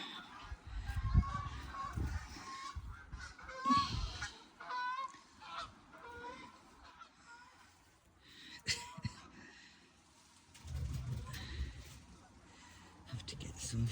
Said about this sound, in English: We've got geese flying over.